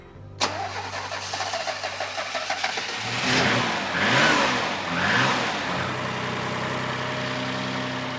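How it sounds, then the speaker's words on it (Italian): A Maserati Biturbo engine cranks with a rapid starter rhythm, catches, revs up loudly a few times, then settles into a smooth, steady idle close by. "Proviamo a mettere in moto"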